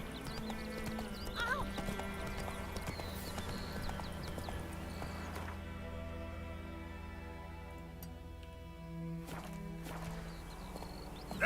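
Hoofbeats of Roach, a horse in The Witcher 3 video game, clip-clop steadily at close range over a soft musical background, with a brief whinny early on and no speech.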